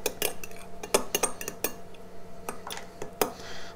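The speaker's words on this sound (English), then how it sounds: "And give this a stir" Utensil clinking against a bowl while stirring vinegar for a simple oil-and-vinegar Italian dressing, a string of sharp close metallic taps and scrapes in an uneven rhythm, no voices.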